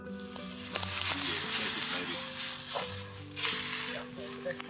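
Onions fry in a pan over a camp fire during a deer catch-and-cook in NSW State Forest, a steady sizzle running underneath loud tonal music throughout.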